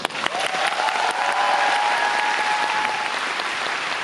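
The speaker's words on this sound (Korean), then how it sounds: "커튼 볼 때 이렇게 박수와 환호성을 마음껏 알려주시니까" A theatre audience applauds at the curtain call of the musical Aida, producing steady, full clapping that holds at even loudness for several seconds with faint cheering.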